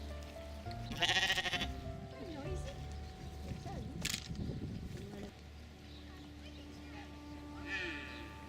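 Sheep bleat several times at a sheep shearing demonstration in New Zealand, the calls loud and near, mixed with a murmur of people talking nearby.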